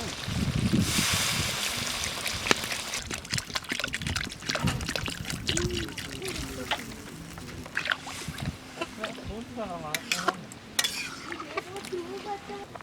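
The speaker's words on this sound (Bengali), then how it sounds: "এবার জল দিয়ে দেবো" Water poured into a pot of braised chicken cooking outdoors in a jungle setting, a gurgling pour and splashing with stirring clatter, close and fairly loud, with voices talking at times.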